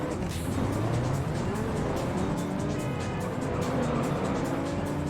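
A Supra race car in a video game drives with a steady, loud engine drone and shifting pitch. Tire noise runs under the engine throughout, and nobody speaks.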